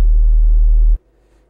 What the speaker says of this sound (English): really pure sine wave.